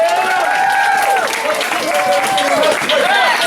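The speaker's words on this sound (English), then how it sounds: "Audience, give them a round of applause." An audience at a martial arts graduation ceremony applauds, with steady clapping mixed with cheering and excited voices throughout.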